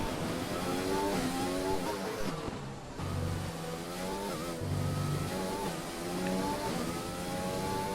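A race car in a racing game rounding the final corner on a wet Singapore circuit, engine note shifting through downshifts and revving back up, steady and close, with other cars faintly around.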